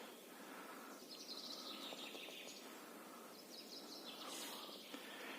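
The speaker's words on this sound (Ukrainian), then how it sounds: "Пташки співають." Birds singing in a spring forest in Khmelnytskyi Oblast, several faint, high chirping phrases repeating against quiet woodland background, no voices.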